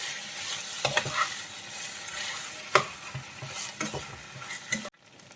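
Garlic chicken drumsticks dusted with pepper powder are stirred in a hot pan, a steady close sizzle broken by several scraping spoon strokes, ending abruptly in near silence.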